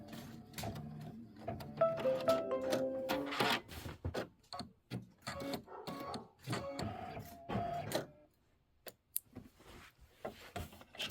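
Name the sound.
embroidery machine stitching the trim placement line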